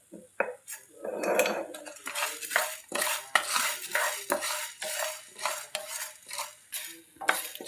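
Black sesame seeds and cumin stirred in a little hot oil in a pan, with repeated scraping and clinking of a metal spoon against the pan over a soft sizzle, close and fairly loud with no talking.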